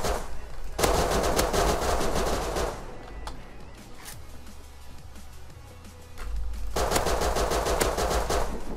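P250 pistol gunfire in the survival game Rust comes as loud, dense bursts of rapid shots that ease off briefly mid-way before the heavy firing returns, with no talking.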